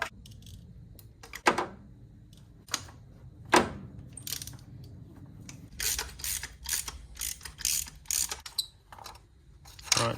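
A ratchet works spark plugs out of a BMW E46 engine, giving short bursts of close, sharp clicking separated by pauses, with a few louder knocks and no talking.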